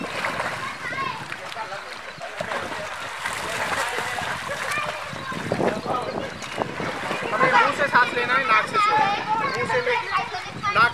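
Water splashes and bubbly sloshing close to the microphone, with a person talking over it and some wind noise.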